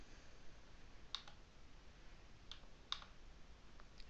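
A computer mouse clicks a few times, faint and sharp, with single clicks spaced apart over quiet room noise.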